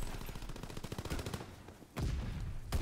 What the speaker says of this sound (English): They're battling with shotguns, melee weapons, everything underneath here